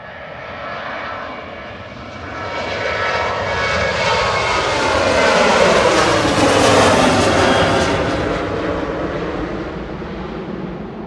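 A Ryanair Boeing 737-800 jet departs for Shannon at Manchester Airport, its engine roar swelling steadily to a loud broadband peak mid-pass, then easing slightly while staying strong, with no voices over it.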